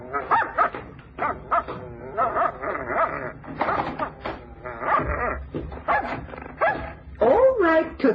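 A dog barks, yips and whimpers in a classic old-time radio detective mystery drama, a run of close, sharp repeated barks coming in irregular bursts.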